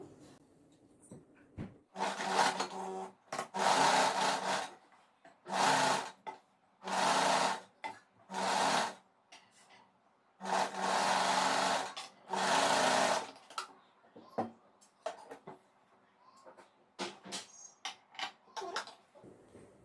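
A sewing machine stitches nightsuit fabric in a round seam, running in bursts of rapid whirring separated by short pauses, fairly close and moderately loud, with faint quiet voice at moments.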